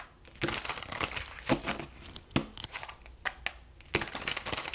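Quiet crisp riffling and slapping of tarot cards being shuffled, in several short bursts with brief pauses between them.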